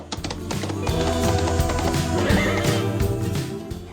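Three horses neigh and whinny close by, long wavering calls overlapping for several seconds, with faint hoof clip-clop underneath.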